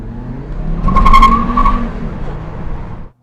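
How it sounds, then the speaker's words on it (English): A Volvo V70R spins its front wheels under hard acceleration, with a loud engine roar and a tonal tire squeal that swells mid-burst before easing off. A voice talks briefly over it. "When I put the pedal down, it just lit up the front wheels."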